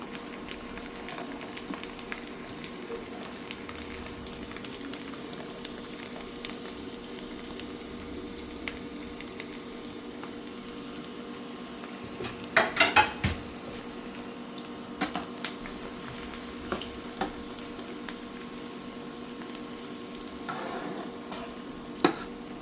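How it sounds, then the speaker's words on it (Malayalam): Garlic, about 200 grams, and a little ginger sauté together in a pan for a beef pickle, giving a steady, even frying sizzle throughout with a few brief clatters of stirring near the middle. "ഞാൻ വെളുത്തുള്ളി ഒരു ഇരുന്നൂറ് ഗ്രാം ആണ് എടുത്തേക്കണേ ഇഞ്ചി കുറച്ച് മതി കേട്ടോ ഞാൻ രണ്ടും കൂടി ഒന്നിച്ചിട്ടിട്ടാണ് വഴറ്റണേ"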